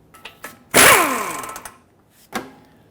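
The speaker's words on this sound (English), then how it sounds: "Now let's use a 21mm and remove this nut." A 21mm socket wrench works loose the left outer tie rod nut on a 2000-2005 Ford Excursion: a few light metallic clicks, then one loud close ringing burst that fades away, and a last short clack.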